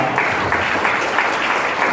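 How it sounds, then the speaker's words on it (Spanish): Church congregation applauding during a worship service, a steady wash of many hands clapping with a loose rhythmic pulse, fairly loud and continuous for the whole moment. "Un aplauso al Señor esta mañana."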